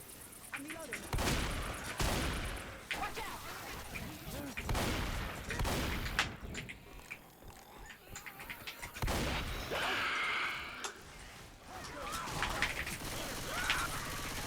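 Gunfire from the video game Left 4 Dead 2 in versus mode, bursts of shots and rapid fusillades, some close and loud, others thinner, scattered throughout with a voice talking over them.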